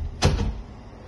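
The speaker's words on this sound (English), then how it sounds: "this is the main door" The main door of an apartment, entered from the stairwell, opens with a single quick sweeping thud and a short rattle that fades into room quiet.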